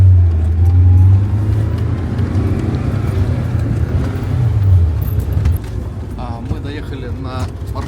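A minibus on the road to Khulo, a mountain town in Adjara, Georgia, gives a steady low engine rumble and road noise throughout, easing slightly near the end, with faint voices in the background.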